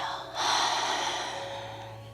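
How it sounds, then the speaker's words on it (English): A single breath during a yoga breathing exercise, a soft airy rush that swells after a brief pause and then trails off slowly, heard close and alone. "inhale, exhale, inhale, and exhale"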